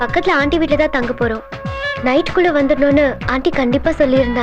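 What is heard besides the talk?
No everyday noises stand out.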